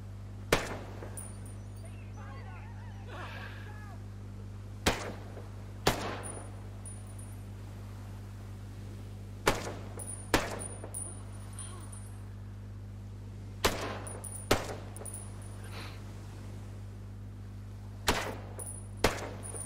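Unsuppressed 5.56 rifle shots in Ghost Recon Breakpoint, fired as single well-aimed rounds in small clusters of sharp, loud cracks separated by pauses over a steady low hum.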